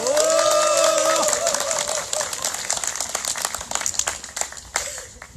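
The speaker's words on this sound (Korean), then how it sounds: "스스로 함께 박수를 쳐도 좋은 날이라 생각합니다. 박수 칩시다." Crowd applause breaks out at an outdoor THAAD protest rally, loud and sustained, with scattered claps and a few shouts trailing off over several seconds after a voice fades at the start.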